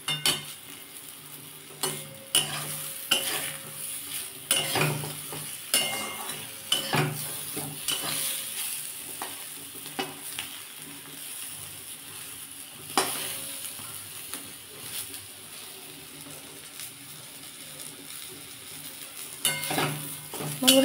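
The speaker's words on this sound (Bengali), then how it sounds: "বেগুনটা আমার ভাজা হয়ে গেছে।" Brinjal frying in oil in a wok, with a steady sizzle throughout and repeated scraping stirs of a spatula against the pan, close and loud with no talking.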